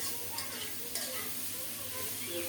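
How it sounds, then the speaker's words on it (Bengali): Sliced green chillies and chilli powder sizzling in a pan with a little oil, a steady faint frying hiss with light stirring scrapes over a low hum. "চার পাঁচটা কাঁচামরিচ ফালি করা দিলাম আর হাফ চা চামচ গুঁড়ো মরিচ দিয়েছি"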